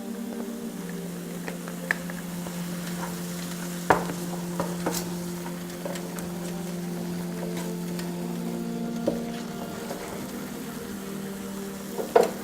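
Butter sizzles steadily with a hissing sound in a hot pot with turmeric and paprika, with occasional clinks and stirring taps over a low background hum.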